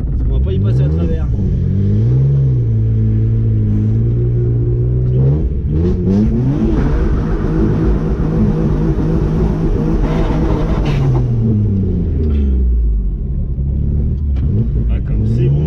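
A BMW E36 bi-turbo (325i/328i) accelerating hard through first gear, its engine revving up loud and close with rising and falling pitch as it pulls, a deep rumble underneath from start to finish.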